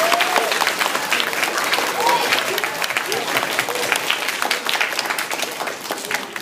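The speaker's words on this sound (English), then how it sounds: "Now would be a good time to applause these outstanding students." Audience applauding newly installed student government officers at a school installation ceremony, with sustained dense clapping throughout, steady and fairly loud, and faint voices mixed in.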